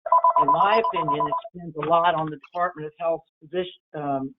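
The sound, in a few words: telephone ringing during meeting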